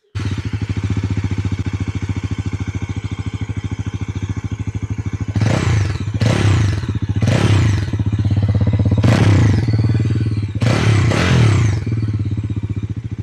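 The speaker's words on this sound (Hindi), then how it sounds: "तो ये एग्जॉस्ट हम आपको सुनाते हैं अभी, इसका एग्जॉस्ट का साउंड कैसा है।" A Bajaj Pulsar NS400Z with an underbelly exhaust idles with a deep, steady thrum, then is blipped in five or six sharp revs that rise and fall quickly before settling back to idle.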